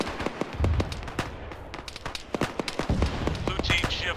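Grenades going off during a firefight in the military video game Arma: a rapid string of sharp, punchy blasts and pops, some heavy and low, mixed with gunfire while players shout over the noise.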